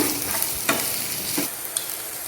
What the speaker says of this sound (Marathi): कांदा टाकायचा कांदा हलका परत